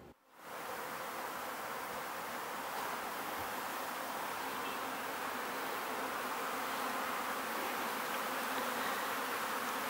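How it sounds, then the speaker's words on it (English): Honey bees swarm over wax cappings left from honey extraction, a dense, steady buzzing drone that fills the air close by and stays constant throughout. "Here are the bees cleaning up my wax cappings from the honey extraction process."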